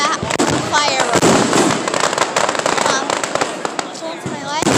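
A big small-town fireworks display in northern Wisconsin bursts with rapid, loud crackling and popping, dense overlapping bangs filling the air while people talk throughout.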